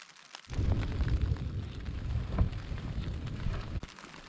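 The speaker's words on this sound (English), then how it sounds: "The rain's been picking up a bit." Rain falling on a mountainside at night, a dense rumbling patter, likely drumming on a shelter close by, that starts abruptly, holds loud and steady, then cuts off near the end.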